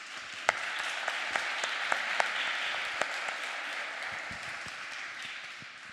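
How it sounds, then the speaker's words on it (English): A conference audience applauds the panel speakers with a steady, moderately loud patter of many hands clapping, a few sharper individual claps standing out. The clapping holds for several seconds, then thins toward the end. "So I would first like to give a big applause to our speakers for this panel of"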